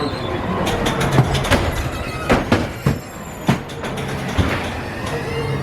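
A ghost train ride car at Great Yarmouth Pleasure Beach rolls along its track with a steady rumble, punctuated by sharp clacks and knocks as it passes over joints, fairly close and continuous with no talking.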